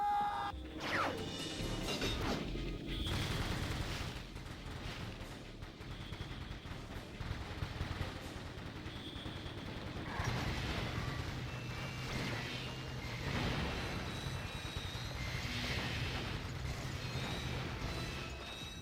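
A Tesla cannon firing in Ratchet and Clank, crackling electric blasts and crashing impacts layered over loud continuous game noise and music, with no speech.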